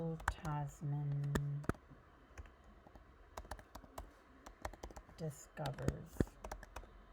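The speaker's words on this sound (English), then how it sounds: "I will type in Abel Tasman" Keys on a computer keyboard click in quick, uneven bursts up close, sounding under and between a speaking voice.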